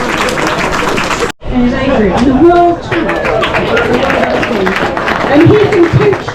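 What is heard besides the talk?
parkrun crowd applauding Tony's 173rd event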